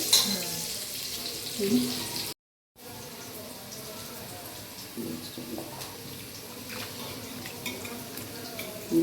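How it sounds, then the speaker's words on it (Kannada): Tomato and mixed vegetables tipped into a pan of frying pulao masala, giving a steady soft sizzle and stirring scrape with a brief silent gap early on. "ತರಕಾರಿ ಎಲ್ಲ ಹಾಕ್ತೀನಿ, ಟೊಮೊಟೊ ತರಕಾರಿ."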